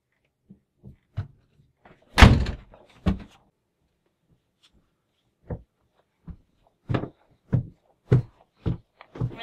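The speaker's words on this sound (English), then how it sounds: "Can you shut the door?" Indoor door thumps and knocks scattered over several seconds, one loud slam early followed by quieter and then repeated sharp closing knocks in a quiet room.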